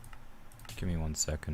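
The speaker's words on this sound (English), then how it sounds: "You could probably hear my keyboard very loudly because there's no filter or anything on this." Computer keyboard typing, loud and close on an unfiltered microphone during a Minecraft survival stream, with someone talking over the clicking.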